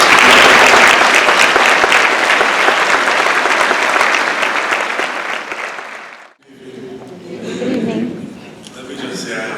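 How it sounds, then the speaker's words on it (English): A gala audience at the Botham Jean Foundation event breaks into loud, dense applause that slowly fades after about six seconds. A speaker then talks over the quiet room. "Let's give a round of applause."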